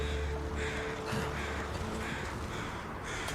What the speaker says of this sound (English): Nice day like this, you always hear the crows, too.